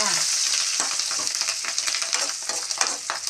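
Green chili and curry leaves frying in oil for a homemade mango pickle, a dense steady sizzle with soft scraping strokes of a spoon stirring through, close and continuous with no talk.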